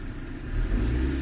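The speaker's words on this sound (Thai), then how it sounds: "เดี๋ยวกดคันเร่งใหม่" A car running on an LPG gas conversion that keeps cutting over to petrol revs up as the accelerator is pressed, its close engine rumble swelling louder partway through the short burst.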